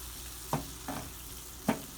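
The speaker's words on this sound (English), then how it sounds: "So we just continue to let that simmer" Taco filling seasoned with cumin, paprika and crushed red pepper simmers in a pan with a low, steady sizzle, broken by three soft stirring scrapes; quiet and close, no talking.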